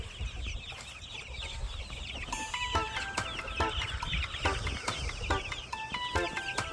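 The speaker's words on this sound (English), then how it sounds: "These are all purebred. All different kind of purebred birds." Purebred chickens cluck and call around a farmyard, several birds close by with repeated clucks and short cries over steady outdoor noise, no talking.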